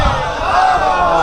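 A Muharram majlis congregation in Karachi shouts a slogan in praise of Ali, a brief, loud, massed chant of many voices together.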